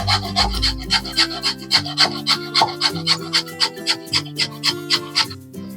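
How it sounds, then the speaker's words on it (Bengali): Papaya being grated by hand, a steady run of about a dozen rhythmic rasping strokes, close and fairly loud, with no talking. "পেঁপেটা আমি ঘষে নেব।"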